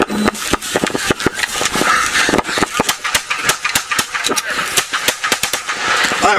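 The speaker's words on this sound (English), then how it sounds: "this officer breaks leather and just starts dumping rounds into this guy close range" Close-range handgun rounds fired by a police officer during a struggle with a robbery suspect: rapid, sharp bursts cracking in quick succession, loud and near, with a few gaps between strings of shots.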